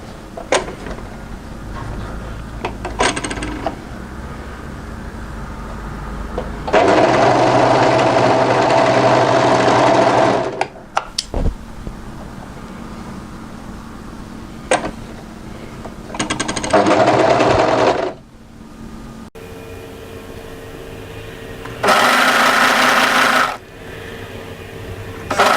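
A sewing machine stitches the side seam of a drape-front coatigan in three loud, steady bursts of fast whirring, with quiet handling and pauses between the runs.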